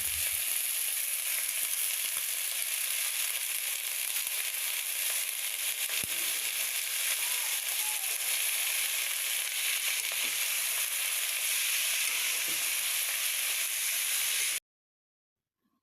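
Tender home-grown leafy greens fry in oil with garlic, onion and dried chili, giving a steady, close hiss and crackle that stays even before cutting off abruptly near the end.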